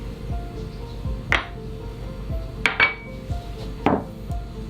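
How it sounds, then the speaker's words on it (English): Spoon or whisk clinking against a bowl while pancake batter of sugar, butter, one egg and milk is stirred, with a few sharp, scattered taps over a low background hum. "So we're gonna mix all this up And make fluffy pancakes"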